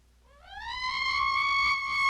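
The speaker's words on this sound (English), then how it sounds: "It's an air raid siren." An air raid siren winds up from a low pitch to a steady high wail over about two seconds, growing louder and holding a sustained tone, heard alone without voices.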